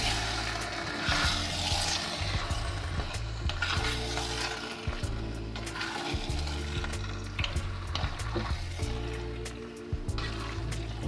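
Homemade creamy white sauce being stirred into cooked pasta in a pan, producing a continuous close bubbling, squelching mix with spatula scraping throughout, over a low steady background hum and no speech.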